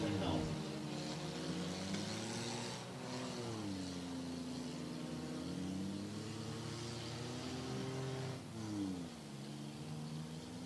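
Race cars lapping a slick enduro race track, a continuous engine roar with shifting pitch from several cars, heard at a distance under a commentator's voice.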